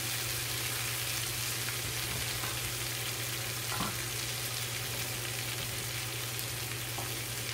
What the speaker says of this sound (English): You can see how the sausage is starting to brown up.